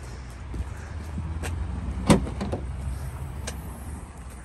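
Trunk of a 2014 Opel Mokka being opened, with a sharp latch click near the middle and a few lighter clunks and rustles around it, close by against a low steady background rumble.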